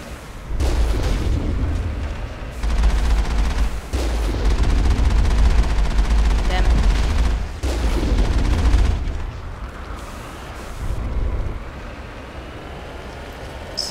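Steady barrage of gunfire and booming explosions from a Mass Effect firefight, dense and loud with repeated impacts, no voices over the din.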